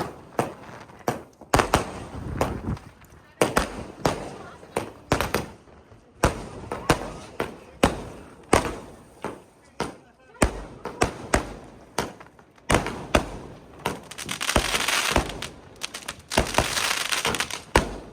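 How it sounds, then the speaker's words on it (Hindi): A 240-shot Diwali firework cake going off outdoors: a fast string of loud, close bangs and thumps, with crackling bursts building into a dense barrage near the end. "अबे जल 240 शॉट चल चुके हैं"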